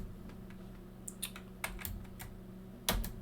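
A computer keyboard taps out a command at a desk, with a handful of sparse, crisp keystrokes spread unevenly across the moment and a firmer final key press, quiet against a low steady hum.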